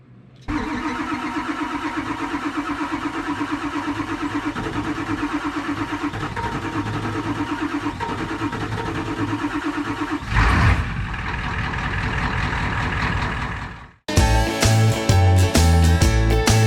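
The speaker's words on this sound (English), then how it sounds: "see if that old truck will start" Old truck engine cranking and catching on a chilly day, a long steady churning run that surges near the end, then cuts off abruptly before a loud new burst.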